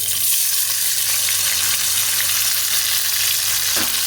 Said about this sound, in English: Put the flame high and fry them until they have disintegrated.